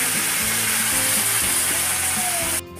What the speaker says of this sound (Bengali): ভালো করে ভেজে নেব, কিছু পরিমাণে জল।